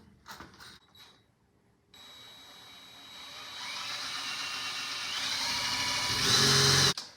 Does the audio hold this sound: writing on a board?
no